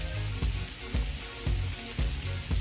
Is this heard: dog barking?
no